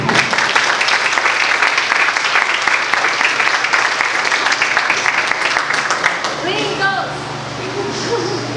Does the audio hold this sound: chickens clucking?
no